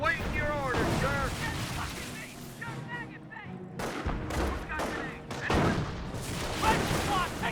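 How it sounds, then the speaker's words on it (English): Gunfire in the WWII strategy game Company of Heroes 1, Panzer Elite against US forces around tank traps and hedges, with repeated sharp shots and booming bursts layered under voiced unit lines and a commentator talking throughout. "Now got some shots over here in the tank traps"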